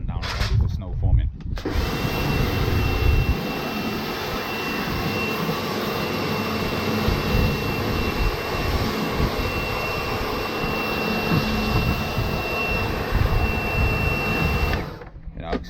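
A steady, loud, roaring air blast blows dirt off a wet Volkswagen T32 DSG Kombi van during a wash. The rush runs on unbroken for around thirteen seconds between brief quiet moments at the start and the end.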